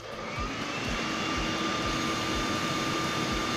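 An electric drill runs steadily on its motor, a continuous close whine holding a constant pitch with a low rhythmic rumble beneath, with no voices over it.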